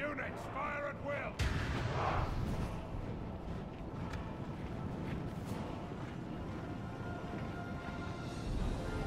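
Artillery and gunfire in a Divide and Conquer mod battle sound as continuous rumbling volleys and booms, with a sharp blast early on and a shouted command under the barrage.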